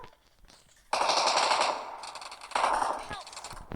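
Automatic gunfire in a shooting video game, two loud rapid bursts of shots close up, the first about a second long and the second shorter, with a quieter stretch before them and faint voices in the background.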